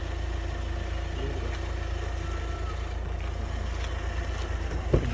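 A 2019 Hyundai Venue with 1.15 lakh km on it idles nearby. Its engine gives a steady, even low rumble and hum throughout, with one brief knock near the end.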